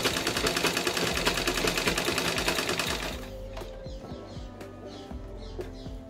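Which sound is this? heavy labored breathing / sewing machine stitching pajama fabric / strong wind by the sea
sewing machine stitching pajama fabric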